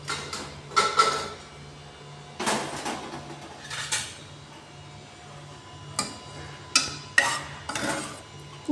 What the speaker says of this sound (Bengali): এখন আমি কুকার থেকে বার করে দেখছি এই তরকারিটা কতখানি হলো।